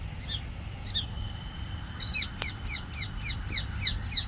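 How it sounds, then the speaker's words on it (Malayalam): Several birds calling from a nesting tree among old shady trees, with a run of short, evenly spaced sharp chirps growing clearer and more regular toward the end over a low background rumble. "കിളികൾ കൂട് വെച്ച് ഫാമിലി ആയിട്ടിരിക്കുകയാണ്."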